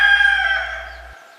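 A single rooster crows on a farm, one loud drawn-out call close to the microphone that fades out over about a second.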